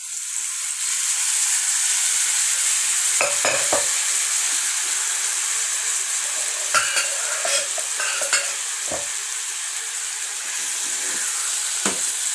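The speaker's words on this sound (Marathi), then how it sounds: "छान परतून घ्यायचं आहे आपल्याला" Pre-cooked goat intestine (vajri) stir-fried in a pan over medium heat gives a steady, loud sizzle, broken by a few sharp scrapes and clanks of the spatula against the pan.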